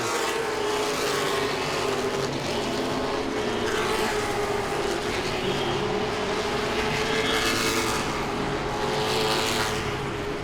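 Late model stock cars race around Langley Speedway, their engines roaring in a continuous dense drone with the pitch swelling and fading as the cars sweep past, heard from a distance with no talk.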